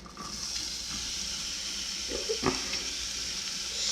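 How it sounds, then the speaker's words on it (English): A small piece of onion begins to fry in warm oil in a pan, making a faint, steady sizzle with a soft tap or two partway through and no voices. "You can just throw a little piece of onion in there. It's not really fried. Yes, it's starting to fry."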